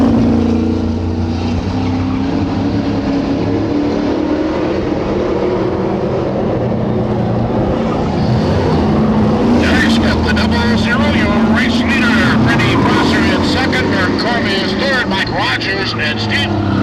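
Race cars roar down the back straight of a speedway oval in a 2001 race, loud engines rising and swelling as they pass, with an announcer talking over the din.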